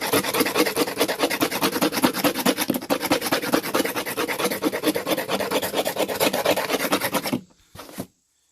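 Rapid, rhythmic rasping of a knife blade scraping across sun-faded, oxidized plastic from an old ATV or motorcycle, loud and close, continuing steadily for several seconds before stopping abruptly.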